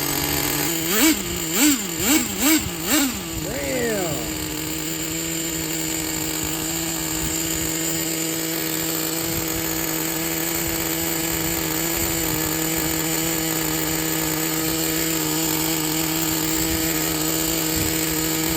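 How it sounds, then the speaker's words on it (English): The nitro engine of a Traxxas 4tec 3.3 RC car gives a few quick revving blips, then holds a loud, steady, high-pitched fast idle that drones on without a break. "The idle's going so fast it's engaging the clutch, so let's lower that idle speed"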